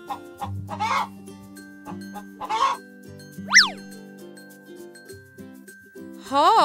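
A domestic hen clucks in a few short bursts over steady cheerful background music, with a springy cartoon boing effect in between.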